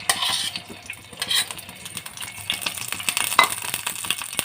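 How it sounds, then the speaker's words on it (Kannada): A spoon stirs and scrapes in a pan as ghee goes in while making rava laddu, giving a soft sizzle with clinking utensil taps, close and fairly quiet, with no talking. "ಈಗ ಸ್ವಲ್ಪ ತುಪ್ಪ ಹಾಕ್ಕೊಳ್ತಿದ್ದೇನೆ."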